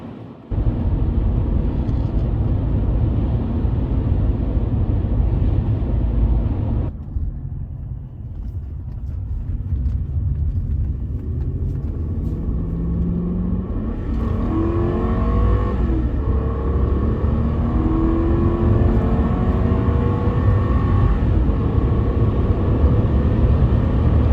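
A Toyota Celsior's 260 hp V8 pulls hard at full throttle, a loud, close roar that keeps rising as the car climbs through the gears, with brief dips at each shift.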